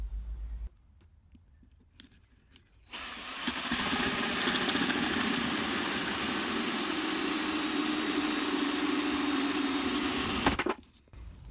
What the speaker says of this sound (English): The plastic's really soft. The cutter should go through it quite smoothly.